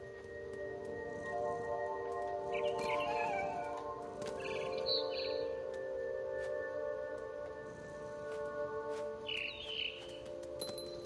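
Bird chirps in the video game What Remains of Edith Finch come in a few short bursts of high tweeting over a sustained ambient drone and background game music, with no speech.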